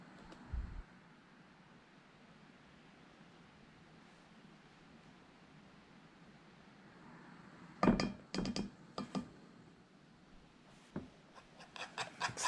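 Powdered sugar being stirred into milk in a bowl for apple fritter batter, quiet at first, then bursts of clinking and scraping of a utensil against the bowl, no talking.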